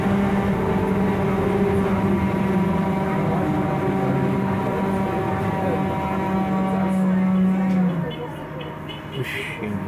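A loud, steady drone from a Scania 6x2 trolleybus on the Celso Garcia route, with a continuous hum and whine from inside the moving vehicle that drops slightly near the end.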